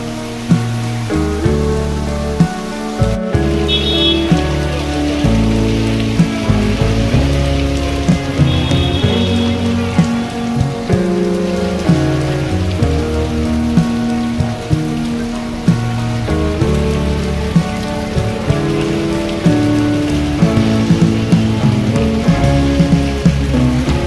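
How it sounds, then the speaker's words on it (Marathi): Steady, dense rain pours down throughout during a thunderstorm in Nanded, a continuous close wash of drops with a few sharper knocks and a sudden crack early on. "आणि पावसाळ्यासारखा पाऊस आहे जोरात"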